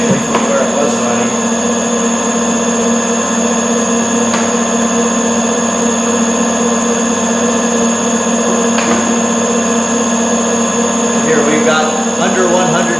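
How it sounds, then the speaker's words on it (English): Oil screw press cold-pressing golden flax runs with a steady, continuous mechanical hum and grind, loud and close, with faint intermittent clicks and clanks over the drone. "Now we've just been running the press for just a few minutes."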